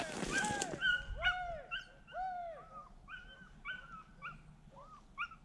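Hunting dog on a rabbit hunt, yelping and whimpering in a string of high, rising-and-falling cries with short barks, fairly close in open country, with brief talk at the start.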